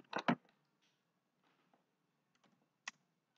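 Typing on a computer keyboard, a quick close cluster of key clicks followed by a few faint scattered taps and one last sharper click, with no talking.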